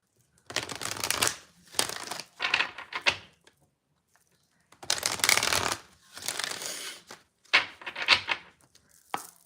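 Tarot cards being shuffled by hand, several separate bursts of riffling and slapping with short pauses between them, close and alone without talk.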